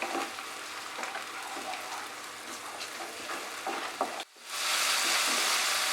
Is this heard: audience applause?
no